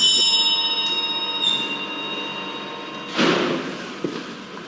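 A house service bell rings with a sustained metallic tone, followed by a dull thump and a softer knock.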